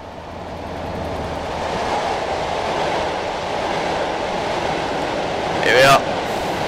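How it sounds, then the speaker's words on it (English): Class 67 diesel locomotive braking in Train Simulator 2020, a steady rumbling rail roar with a rising high squeal near the end, loud and continuous. "I've applied a little bit harder braking. Get the train to slow down."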